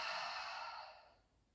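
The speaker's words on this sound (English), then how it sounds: "We'll take a few cleansing breaths together, inhaling through the nose and exhale through the mouth." A deep cleansing breath during a yoga flow, drawn in through the nose and let out through the mouth, sounds as one long, close, airy sigh that fades away toward the end.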